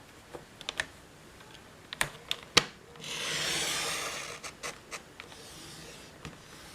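Cardstock cut on a paper trimmer: a handful of sharp taps and clicks, then a smooth, sustained scraping slide of the blade lasting about a second, followed by more light taps, close and quiet.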